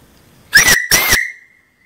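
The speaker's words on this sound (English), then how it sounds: "Beautiful whistle." A miniature live steam boiler whistle blows two short, close, loud shrill blasts in quick succession, the second trailing into a thinner fading tone.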